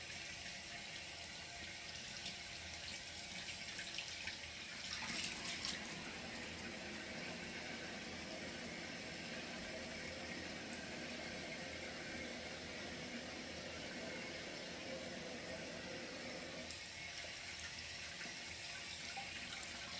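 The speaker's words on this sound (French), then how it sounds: "Je vais rincer mon masque." Tap water gushes continuously from a faucet as a face mask is rinsed off, a steady close hiss with slight shifts in flow and splashing, no talking.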